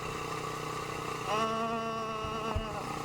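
A second-hand Yamaha R15 version 2 motorcycle, about eight years old, idles steadily nearby, then its engine rises into a smooth higher-pitched rev and holds there. Two short low thumps come near the end.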